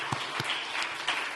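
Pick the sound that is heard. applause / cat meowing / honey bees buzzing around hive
applause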